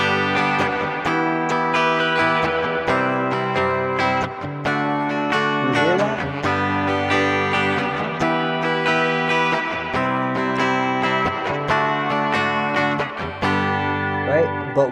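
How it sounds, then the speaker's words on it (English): Strummed guitar moves through a series of bar chord changes, each shift leaving a slight muted gap between chords, in a steady rhythmic run of fairly loud, full strums. "It ends up being like a mute when you play bar chords."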